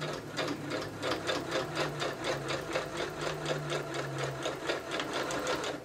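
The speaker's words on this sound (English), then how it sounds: "Okay, I'm gonna sew a little bit. Just sew a little bit, and then roll as you go." A home sewing machine stitches through quilt fabric, a steady close mechanical whir with a fast rhythmic needle chatter that runs continuously, with no talking.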